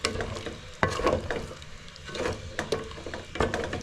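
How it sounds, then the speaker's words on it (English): Broth being stirred into a Kenyan githeri beef stew with potatoes, a close spoon scraping and sloshing in repeated strokes over a soft simmering sizzle, no voice. "You mix and mix and mix."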